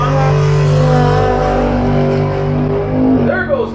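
A 4x4 drag racing car launches down the strip on a May long weekend, its engine roaring loudly and sweeping upward in pitch while a commentator talks over it.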